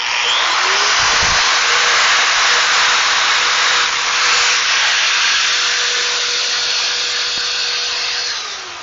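An Alloyman electric drywall sander with built-in vacuum runs steadily throughout, a loud broadband whirring roar with a faint tonal whine, close to the microphone and without talk.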